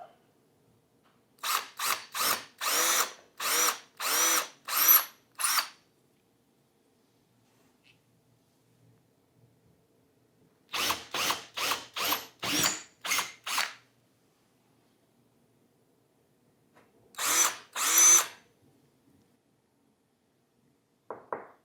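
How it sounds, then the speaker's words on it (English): A power drill bores out the rest of a hole, heard as three clusters of short, rapid bursts of whirring and grinding, close and fairly loud, separated by quiet pauses with no voices. "Go through, get the rest of the hole drilled out"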